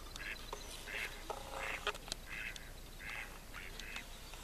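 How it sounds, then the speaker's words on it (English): Ducks quacking from a log in the Adirondacks, a series of moderately loud, repeated quacks spaced across the clip over a quiet outdoor background, with no talking. "There's some ducks on that log over there."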